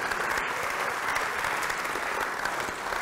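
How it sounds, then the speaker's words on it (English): An audience at a science live stream event applauds steadily and densely throughout, a continuous wash of clapping heard at a moderate distance with no talk over it. "Huge round of applause for their efforts in making all this possible."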